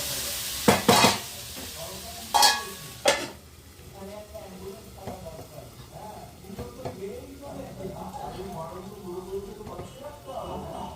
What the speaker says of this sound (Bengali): ননস্টিকের মতো কম তেল দিয়ে আলু ভাজা করছি।